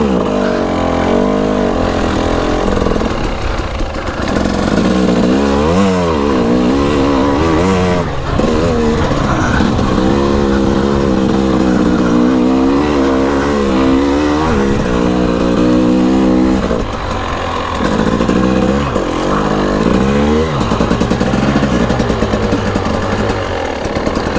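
A Husqvarna TE300i dirt bike climbs a hill, its engine snarling and revving loudly and continuously with rising and falling pitch as the throttle changes, close up and with no talking.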